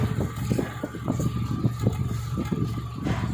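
The engine of a 1993 Suzuki Khyber fitted with an HHO kit is revved lightly, giving a close, steady, pulsing engine chug with small rises in speed.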